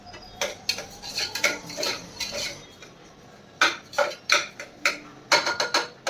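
Breakfast lifted from a pan onto a plate brings a run of sharp metallic clinks and scrapes of a utensil against cookware, irregular and close, in clustered bursts with brief quiet gaps and no talking.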